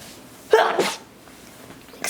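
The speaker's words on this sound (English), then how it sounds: "I'm getting allergies and I'm gonna sneeze" A single sharp sneeze bursts out close by, followed by a quiet pause and a faint breath.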